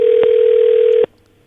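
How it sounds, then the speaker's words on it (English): A telephone line gives a single steady tone lasting about a second before cutting off abruptly, with quiet room noise after. "Phone is ringing."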